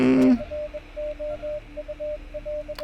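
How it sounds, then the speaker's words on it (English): Morse code beeps from a radio in the video game Wasteland 2 (Director's Cut), a steady pattern of short and long tones that follows a brief loud burst at the start. "I don't know what the Morse code message is saying."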